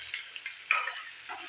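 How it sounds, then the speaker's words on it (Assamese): Semolina (suji) frying in ghee in a pan, heard as a faint, soft sizzle with a few light stirring scrapes over a brief moment. "3 মিনিট এইদৰে ঘিৰ লগত ভালদৰে ভাজি ল'ম"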